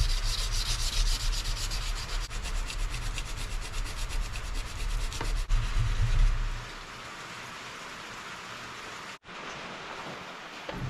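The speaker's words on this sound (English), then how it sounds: "We're gonna start with 220 grit hand sanding, do the whole knife." Continuous rubbing rasp of 220-grit sandpaper worked by hand along a knife blade made from chainsaw chain, a steady close scratching with a brief pause near the end, no talking.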